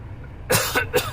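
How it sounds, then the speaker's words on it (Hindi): A few quick, light coughs in a short burst, close by, with no talking around them, from an elderly person after eating peanuts. "2 दिन जैसे मूंगफली खाते उससे खांसी उठ रही है हल्की सी।"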